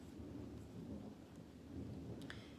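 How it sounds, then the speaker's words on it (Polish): Thunder rolls in a low, continuous rumble with rain hissing steadily, somewhat distant and muffled, with no voices. "Ja mam burzę u mnie i może być słychać tą burzę."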